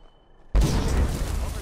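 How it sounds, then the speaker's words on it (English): A sudden loud blast as a custom enchanted fire arrow strikes low-level bandits in a fantasy video game, a sharp onset then a broad roaring rumble that keeps going. "We get a nice explosion."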